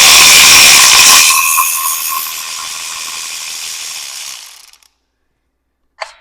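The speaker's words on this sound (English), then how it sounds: "You want to remove these two bolts from the bypass plate." Ratchet spinning a bolt loose on an oil filter bypass plate, a loud rapid clicking burst close up that tapers off, then a short clink after a pause.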